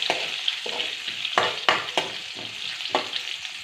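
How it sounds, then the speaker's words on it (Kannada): Chopped onions with cumin fry in a hot pan with a steady close sizzle, punctuated by several sharp scraping strokes of a spoon stirring them. "ಇದನ್ನ ಹಾಕ್ಕೊಂಡು ಸ್ವಲ್ಪ ಫ್ರೈ ಮಾಡ್ಕೊಳ್ಳೋಣ. ಚೆನ್ನಾಗಿ ಫ್ರೈ ಮಾಡ್ಕೋಬೇಕು."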